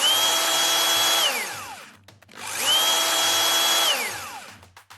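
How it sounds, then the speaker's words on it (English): Electric drill boring holes to mount brackets for a video doorbell, two loud whining bursts each spinning up, holding steady, then winding down with a falling pitch, separated by a short pause. "I'm using a drill here."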